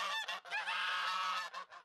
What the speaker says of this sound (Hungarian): A budai házaspár saját részre libákat és kacsákat is nevel